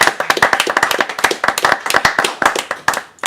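Audience clapping during a French dinner talk show, a dense run of distinct, close hand claps with uneven rhythm from a small group, fairly loud and without talk, trailing off at the end.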